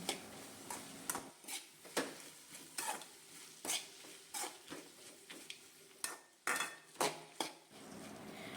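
Okra sautéed in a pan with turmeric and chili powder, stirred with repeated scraping and clinking of a utensil against the pan at an irregular rhythm, close and clear, with a faint sizzle beneath and no talking.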